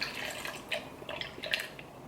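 Water poured from a cup into a Ninja blender jar holding garlic and lemon for a smoothie, a brief trickling splash with a few drips, close and fairly quiet, with no talking.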